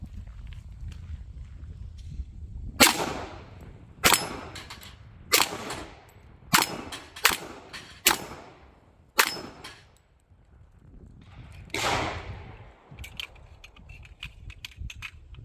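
A 1911 pistol built from a kit on a PSA frame is fired at steel targets: about eight sharp, loud shots in an uneven string, some with metallic pings, over faint outdoor background.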